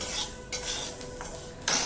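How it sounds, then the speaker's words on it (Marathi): Sesame seeds dry roasting in a pan for garlic-coconut chutney, giving soft scattered crackles and light scraping over a low kitchen hiss, with a brighter burst of popping near the end. "हे बघा तडतड तडतड आवाज येतो आणि उडतात ते असे"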